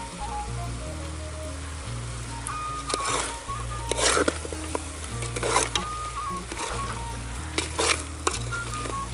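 Pork curry in a village-style pan sizzles and fries steadily as turmeric powder goes in, with scraping stirs of a spoon against the pot and occasional clinks, close and continuous.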